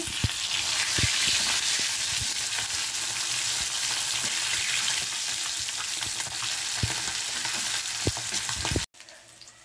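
Fish pieces fry in hot oil in a pan for a fish curry, giving a steady close-up sizzle with occasional stirring clicks and bumps, cutting off abruptly near the end.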